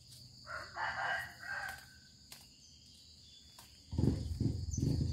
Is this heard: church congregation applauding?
no